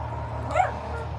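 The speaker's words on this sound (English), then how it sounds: "Dogs are fighting again." A single short dog yelp rises out of a steady low background hum, one brief sharp bark from dogs fighting, heard at moderate distance.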